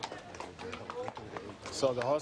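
Horses' hooves clip-clop on hard ground during a veterinary inspection at an endurance event, a steady walking rhythm heard under continuous speech, with a brief whinny-like call near the end.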